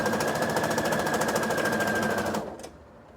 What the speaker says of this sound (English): I'm going to hold on behind the machine and in front of the machine, stretch fully between the 2, and then sew forward.